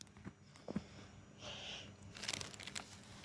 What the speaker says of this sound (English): Hear my footsteps.